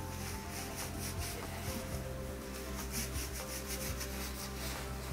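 Shampoo is worked by hand into a dog's wet fur, making a steady, soft, close rubbing and scrubbing sound with a faint wet texture and no talking.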